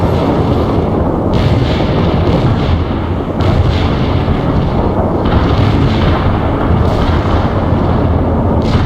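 Napalm airstrike in the World in Conflict war game, rendered as a loud, continuous roar of explosions and rumbling fire, with repeated booms swelling through dense, sustained battle noise.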